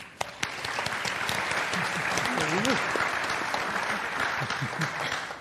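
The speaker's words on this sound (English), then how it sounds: "please give them a round of applause" An audience at a food industry conference claps and applauds steadily throughout, with a few voices and cheers mixed in under the clapping.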